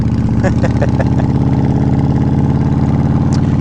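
Yamaha Warrior 1700 motorcycle engine idling nearby, a loud, steady, deep rumble with a rough pulsing throb and a faint click or two.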